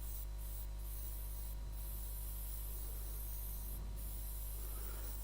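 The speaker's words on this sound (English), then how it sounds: "The reason why I use the airbrush like this is because it's not going to land evenly" Airbrush spraying colour onto a woodturning piece, a steady faint hiss over a constant low electrical hum, with a few brief bursts of stronger spray and no talking.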